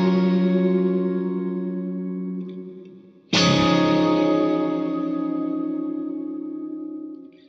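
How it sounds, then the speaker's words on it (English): Sustained electric guitar chords ring out through a shimmering, swelling Strymon reverb with decay switching, its tail pulsing like a tremolo; a second strum restarts the wash midway. "the result ends up sounding like kind of a tremolo effect"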